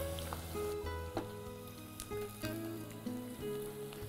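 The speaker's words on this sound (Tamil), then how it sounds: "இதையும் போட்டு நல்லா வதக்கலாம்" Onions and tomato sauté in a pan, a soft steady sizzle running beneath louder melodic background music throughout.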